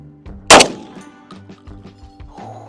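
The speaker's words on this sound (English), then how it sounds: "Let's see if I can shoot this Mossberg 990 from the hip without trying at all prior to this." A Mossberg 990 shotgun fires a single loud, sharp shot from the hip outdoors, followed by metallic clanks and rattles of the action cycling and settling.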